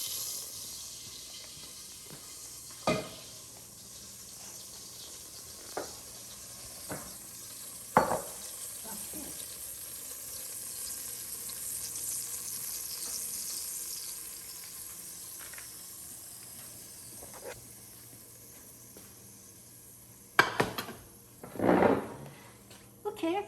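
Butter with saffron sizzles faintly in a pot with rice at the bottom, a soft steady frying hiss broken by occasional clinks and stirring knocks, with louder clatter near the end.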